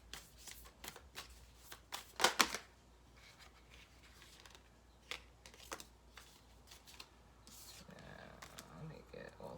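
Tarot cards are shuffled close by, with a dense flurry of riffling and card flicks near the two-second mark and scattered quieter slides and taps around it, all at a low overall level.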